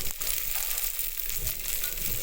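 Onions frying in a pan over a wood-fired stove, a steady close hiss and sizzle that holds evenly throughout with faint stirring noises underneath and no talking.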